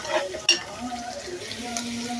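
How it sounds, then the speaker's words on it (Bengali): Onions sautéing in hot oil for a fish curry crackle and sizzle up close, with a sharp utensil clank near the start and a steady frying hiss afterward. "পেঁয়াজও দিয়ে দিচ্ছি, পরিমাণ মতো করে কষাচ্ছি"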